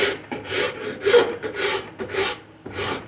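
Hand rasp filing wood while profiling limbs, heard as a series of about six loud, close, one-directional rasping strokes in a steady rhythm, each coarse and gritty, with short gaps between them and no talk.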